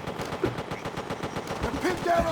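A light machine gun fires in Call of Duty, a rapid, evenly spaced burst of gunshots that runs through the whole stretch, close and loud, with faint game sounds in the background.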